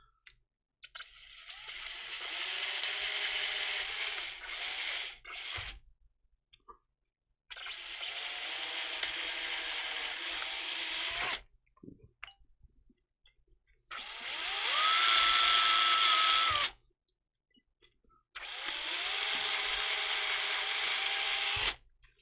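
A weak power drill whirs in four long bursts with pauses between, its motor straining and sagging in pitch, fairly close.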